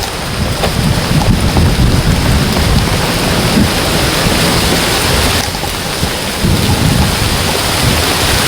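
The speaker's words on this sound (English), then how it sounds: "Okay, now it's raining." Heavy rain pours down with thunder rumbling, loud and close, a continuous dense roar with low rolling swells from the storm and no voices over it.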